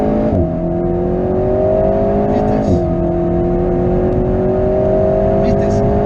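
A race car engine roars and revs hard at close range on a track, pitch climbing steadily, dropping briefly at gear shifts, then rising again.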